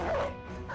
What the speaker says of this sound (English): Another dog out there